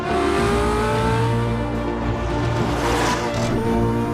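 A Porsche 918 Spyder hybrid's petrol engine roars continuously under hard acceleration, loud and close, its pitch climbing steadily with a whine of electric motors.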